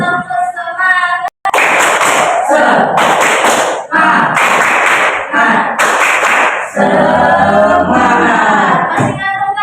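Students in a classroom doing the rhythmic 'tepuk semangat' spirit clap: repeated loud bursts of group clapping in a patterned beat, broken by short chanted voices and ending in talk.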